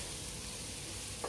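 Cooking oil, about three spoonfuls, sizzles in a pan during sautéing, giving a steady, dense frying hiss close up with no voices.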